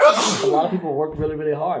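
One loud sneeze bursts out close to the microphone, followed immediately by someone talking over it.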